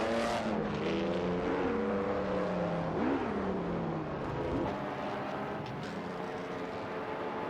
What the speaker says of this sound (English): We just witnessed an exciting race in the racing simulator with artificial intelligence drivers.